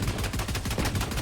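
Rapid video game gunfire, a dense burst of loud repeated shots filling a brief moment with no pause.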